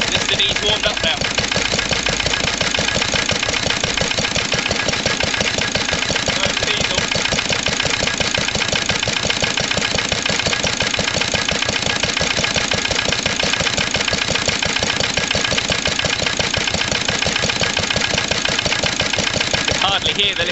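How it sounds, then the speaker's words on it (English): A 1945 Lister D stationary engine idles alongside a louder warmed-up old diesel engine, the pair making a steady, dense mechanical chugging with rapid regular knocking pulses that run continuously and loud throughout. "You can hardly hear the Lister D over the diesel engine."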